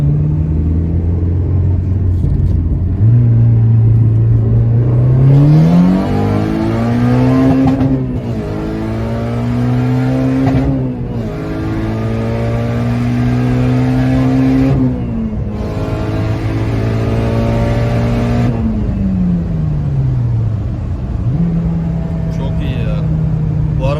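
A Mazda RX8 with a swapped K24 turbo engine revs repeatedly up close, the engine note rising and falling through several long pulls with short breaks between them, loud and steady.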